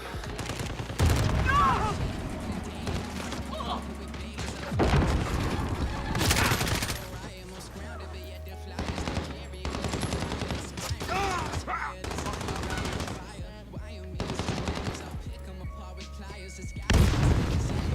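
Rapid gunfire and booming blasts in a first-person shooter video game, repeated loud bursts of shots spread across the stretch with brief quieter gaps, and a voice talking over the action.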